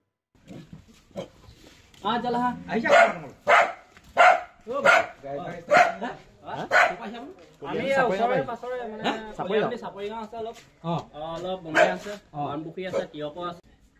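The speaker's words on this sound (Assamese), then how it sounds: "কিন্তু কুকুৰটো বেয়া ভুকি আছে সিহঁতক" Repeated dog barks in uneven bursts, fairly close, mixed with voices.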